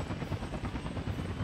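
Video-game helicopter from Workers and Resources: a loud, dense, continuous rotor chop with fast rhythmic thumping over a broad engine roar, steady throughout with no talking.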